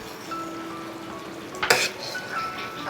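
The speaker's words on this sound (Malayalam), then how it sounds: "ഇനി ഒന്ന് ഇളക്കി കൊടുക്കാം." Egg chana masala is stirred in a pan over a quiet simmering sizzle, with one short scrape and clink of a utensil against the pan partway through.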